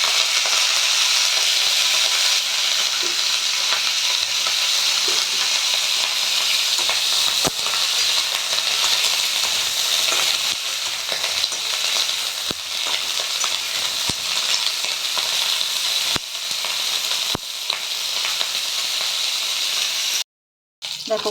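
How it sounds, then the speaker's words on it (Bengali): Cauliflower florets fry in hot oil in a pan, giving a steady close sizzle and hiss with occasional stirring clicks and scrapes, all without talk, and cutting out briefly near the end. "এবার কপিগুলো ভেজে নেব।"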